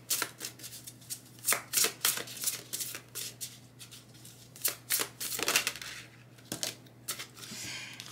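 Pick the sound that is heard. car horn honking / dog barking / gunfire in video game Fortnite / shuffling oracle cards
shuffling oracle cards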